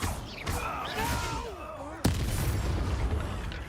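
An Incendio fire spell cast in Hogwarts Legacy hits as a sudden sharp burst partway through, then gives way to a sustained roaring rush. Tonal background sound comes before it.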